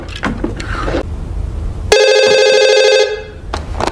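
A telephone rings in a horror story setting: one sustained, bright electronic ring of about a second, clear and near, with talk just before and just after it.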